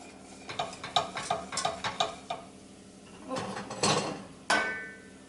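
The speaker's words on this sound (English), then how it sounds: "I'm going to whisk it." A whisk rattles against a pan as hot milk is stirred into a sauce for broccoli cauliflower cheese, giving a quick run of close, rhythmic metallic taps, then a pause and a few slower scrapes and clinks.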